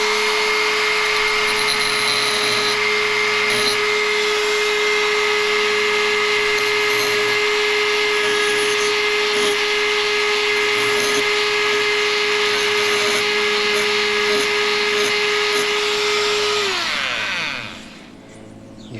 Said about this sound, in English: I'm going to take this burr bit and just knock the top off the pillars just a little bit